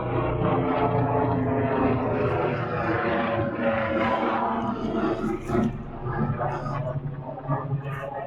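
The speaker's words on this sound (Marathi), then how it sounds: "हेलिकॉप्टर आले, तुम्हाला दिसतं का माहीत नाही बघा" A helicopter flies over farm fields, its rotor and engine making a continuous droning whir at moderate distance, gradually fading, while people talk nearby.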